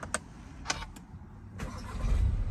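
A Volkswagen Passat B8 R-Line with a 140 kW engine starts up: a few sharp clicks come first, then the engine catches and a low rumble builds and grows louder toward the end.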